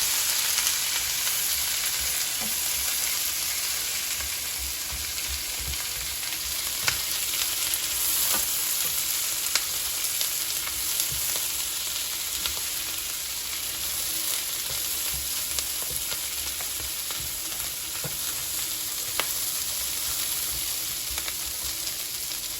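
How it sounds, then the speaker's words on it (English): Cabbage and bacon fry in a pan over medium-high heat, a steady close sizzle running throughout with occasional sharp pops and faint scrapes of stirring. "let's cook the cabbage on medium-high heat, stirring every minute until it's tender enough to your liking"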